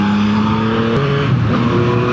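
Riding a 2024 Yamaha MT-09 on a mountain road at Genting, the engine drones loud and close, its pitch dropping abruptly about a second in as the rider shifts or eases off, then continuing steadily with no voices.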